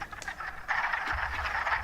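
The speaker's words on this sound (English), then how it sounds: "There's hundreds of male frogs clucking, trying to attract females." A chorus of male wood frogs clucks and croaks in rapid overlapping bursts, loud and close, swelling after a brief quieter start.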